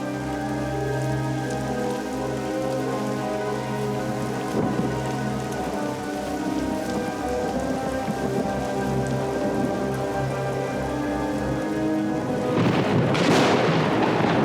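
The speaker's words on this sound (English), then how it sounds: "The tension of the hot summer days is discharged in heavy thunderstorms." Heavy summer thunderstorm over an ancient European oak forest: a loud, dense downpour of rain with deep rolling thunder rumbling beneath it, swelling into a sharper crack near the end.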